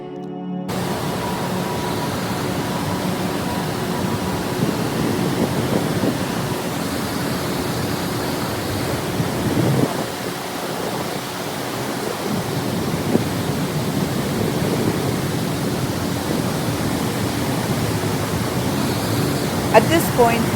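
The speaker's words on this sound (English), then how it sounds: "As we get closer to the Vernal Fall," Vernal Fall in Yosemite roars as a steady, broad rush of falling water close by on a wet trail, continuous and loud throughout with only slight swells.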